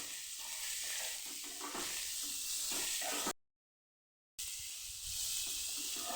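Capsicum, cabbage and carrot sambharo stirred in a pan, a steady close scraping and rustle over a faint sizzle that runs throughout, broken by one stretch of complete silence partway through.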